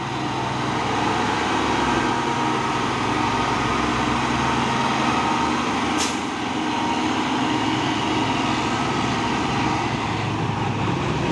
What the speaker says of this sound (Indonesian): Masuk lagi truk Fuso intercooler melewati tanjakan Bukit Kodok di siang hari.